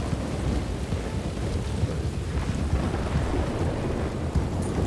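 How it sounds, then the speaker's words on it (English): Loud, continuous, rumbling thunder blends with heavy rain in a dense, unbroken roar of storm noise throughout, with no voices. "I wish the thunder was less loud, man, just like a little bit."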